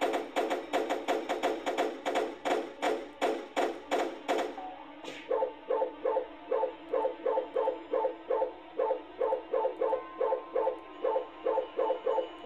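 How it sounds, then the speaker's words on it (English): A dog in the video game Foreign Creature 2 barks in fast, evenly spaced bursts, loud and close, breaks off briefly with a sharp yelp, then resumes the same relentless rhythmic barking. "Hush up, dog, I can't think."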